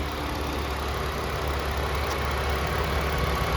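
A 2011 Ford Fusion's 3-liter V6 idles steadily with the hood up, a close, even, continuous mid-low engine hum with no speech over it.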